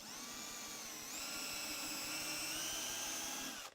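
A power drill fitted with a sharp-pointed brad point bit whines steadily, with a smooth high-pitched tone that shifts slightly in pitch partway through, then cuts off abruptly, close and alone without talking.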